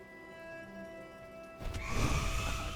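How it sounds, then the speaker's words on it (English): Rain pours down in the Silksong video game, beginning suddenly partway through as a loud, dense broadband wash over a quieter tonal game ambience, with no talk. "This is rain coming down, not wind going up."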